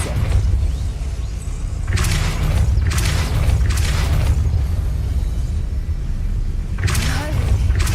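The Depulso force spell in Hogwarts Legacy: a few booming, whooshing blasts of magic over a constant low game rumble, each a second or so long and spaced apart, with a player talking at times.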